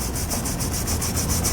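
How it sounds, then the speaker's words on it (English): Tube brush scrubbing lubricant through the threaded mounting holes of a 2014 Toyota Sienna frame for a Curt trailer hitch: steady, close, continuous rubbing and scraping with a faint rhythmic swish, no talk. "I'm just going to use a little lubricant and a tube brush to clean it out."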